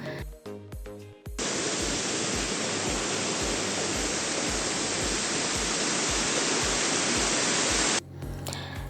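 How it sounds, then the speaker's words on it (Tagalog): Rushing water of Magkahuyog Falls, a small waterfall with clear, cold water in Socorro, Surigao del Norte, a loud steady broadband roar for several seconds, bracketed by rhythmic low thumping music before and after. "Narinig nyo ba yun? Lakas ng tubig, no?"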